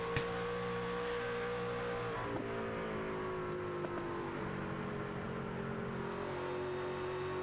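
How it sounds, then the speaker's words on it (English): Onboard at Nashville during a Thunder Series sim racing league race, a race car engine drones steadily and loudly with a smooth, sustained tone whose pitch eases slightly downward. No one speaks over it. "you can hear that engine so well and hear how they're rolling the throttle and everything"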